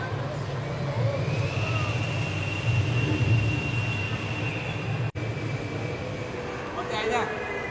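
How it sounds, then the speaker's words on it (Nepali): A small rubber-tyred, monorail-style ride train rolls across the ground floor of a large shopping mall, a soft steady rumble with a faint squeal and rattle. Indoor crowd murmur and talk carry underneath. "ठ्याक्कै यो मलको ग्राउन्ड फ्लोरमा यो सानो मोनोरेल जस्तै तर"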